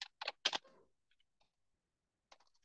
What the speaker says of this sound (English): This is how I started typing.